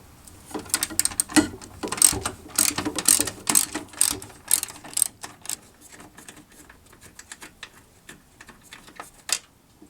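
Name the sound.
ratchet removing bolt on Toyota Tundra radiator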